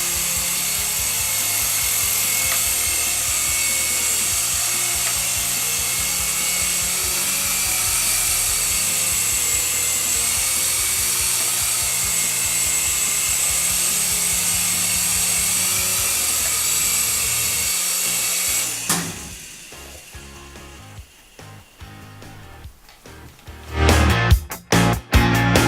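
A Syma S107G RC helicopter flying as a high, constant electric whine from its small rotors, steady and loud for most of the stretch before it drops away into quieter clicks and handling noises.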